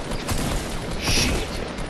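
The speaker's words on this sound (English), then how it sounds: "I can hear gunshots." Fortnite Battle Royale gunfire crackles in dense, overlapping bursts within a constant wash of game noise.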